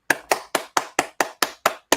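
Applause at a speaking event: eight sharp hand claps at an even, quick rhythm, close and distinct, with no voices.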